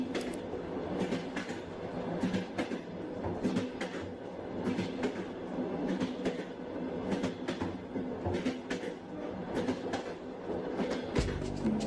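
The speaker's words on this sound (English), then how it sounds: "Our train will be arriving at Habara station shortly." A passenger train pulling into a station, its steady rumble and rhythmic clickety-clack of wheels rolling on for the whole stretch, moderately loud and unbroken by talk.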